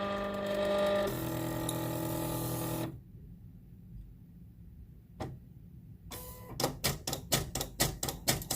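A Silhouette Cameo 3 cutter reads registration marks printed on plain copy paper, starting with a loud tonal whir and then, after a quiet stretch, giving off a rapid series of rhythmic mechanical clicks and ratcheting ticks.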